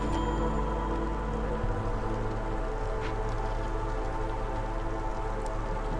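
In the video game Against the Storm, charged rain pours without pause as a constant, full hiss over a deep low hum, with faint scattered drips and no talking.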